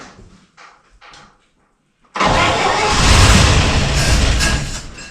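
A 1955 Chevy junker engine, cranking a few times after sitting through winter, then catching and firing into a loud, steady rumbling run that holds to the end. The engine is close by and there is no talk over it.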